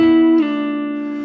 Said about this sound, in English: A great sounding technique is connecting these chords with a slide.